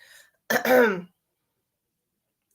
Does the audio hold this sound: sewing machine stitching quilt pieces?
no